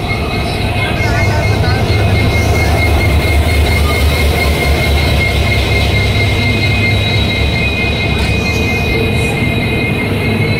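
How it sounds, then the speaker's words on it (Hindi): Passenger train pulling into a station on the Bhagat Ki Kothi Kamakhya Express route, a steady loud rumble with a high sustained wheel squeal and faint voices in the background throughout. "ये अपनी ट्रेन आ चुकी है।"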